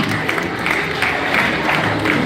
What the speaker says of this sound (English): Let's clap for her.